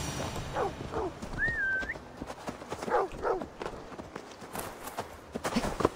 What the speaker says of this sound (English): Oh, I'm stealing your horse.